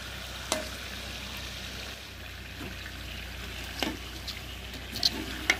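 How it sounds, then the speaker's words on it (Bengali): Homemade cream rolls frying in oil and being turned now and then, giving a faint, steady sizzle with a few scattered clinks and scrapes, nearby and quiet, with no talking. "এইভাবে ভালো করে সব দিকে যেন ভাজা হয়ে যায়, সেই জন্য একটু উল্টে পাল্টে সুন্দর করে ভেজে নিতে হবে"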